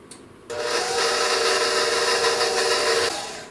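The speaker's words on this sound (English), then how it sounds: "we are going to mix the butter and the sugar until it's well combined" Electric mixer beating butter and sugar for an Italian lemon ricotta cake, a loud steady whirring drone that starts abruptly, runs for about two and a half seconds, then cuts off.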